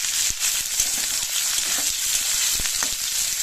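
Chopped onions frying in oil in a pan, a dense steady sizzle with a few soft stirring knocks, close and continuous.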